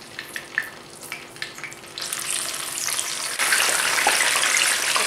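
Tomatoes dropped into hot olive oil, a few clicks and taps followed by a sizzle that swells to a loud, continuous bubbling fry, close with no voices.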